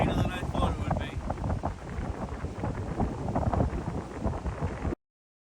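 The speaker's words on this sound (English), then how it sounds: "it was way too windy" Heavy wind buffets the microphone in a continuous low roar on an off-road Jeep trip, loud and steady throughout, with no pauses.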